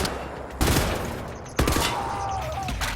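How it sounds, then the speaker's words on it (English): Gunfire in the Wolfenstein: The New Order video game, two loud bursts of rapid shots a second apart, close and harsh over a steady background rumble, with no talk. "Yeah, I'm shooting him, man"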